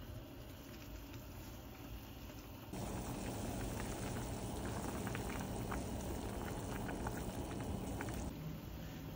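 Shrimp sinigang soup with bok choy bubbles at a steady rolling boil in a pot, a dense, continuous hiss and gurgle that grows louder partway through and holds with no talking.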